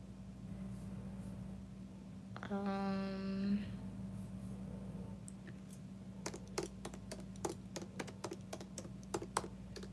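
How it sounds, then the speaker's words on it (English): Fingers type on a computer keyboard in a quiet room, a quick run of crisp, close clicks after a brief tonal electronic sound, over a steady low hum, with no talking. "I'm typing away on my computer."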